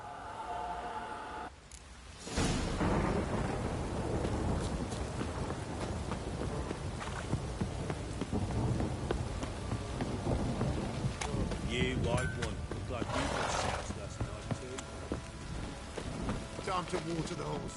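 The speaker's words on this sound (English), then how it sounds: "This downpour's a bastard, it is." Rain and distant thunder in The Witcher 3 on PS5, a steady downpour hiss with low rumbling swells, mixed under game sounds and character voices, with short breaks in the rain bed.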